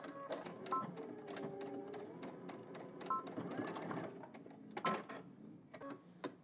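A sewing machine stitches a 5/8-inch seam on a pair of casual shorts, running in short, uneven bursts of mechanical whirring and clatter with pauses between. The machine is close and moderately quiet.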